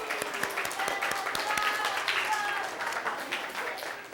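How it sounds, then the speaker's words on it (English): A group claps together at moderate distance, with voices chattering over the applause. "Give yourselves a round of applause."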